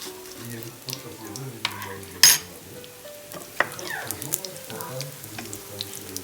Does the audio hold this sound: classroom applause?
no